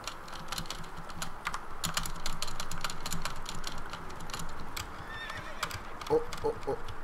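Roach, the horse in The Witcher 3, gallops with rapid clip-clop hoofbeats, with a couple of brief neighs in between, under a busy layer of keyboard typing clicks.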